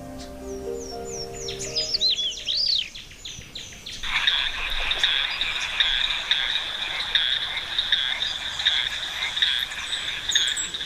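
Frogs in a Madagascar rainforest croak in a dense, rhythmic chorus of repeated pulsing calls. A few bird chirps come first, then the croaking takes over and continues loud and steady to the end.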